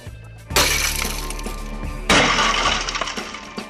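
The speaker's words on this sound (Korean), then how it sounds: "잠금 장치 부분에 큰 충격을 받으면 강화 유리가 깨지면서 금고가 자동으로 잠기는 것이다" Tempered safety glass inside a safe's locking mechanism shatters in two sharp, loud bursts, each followed by tinkling fragments and a crackling decay.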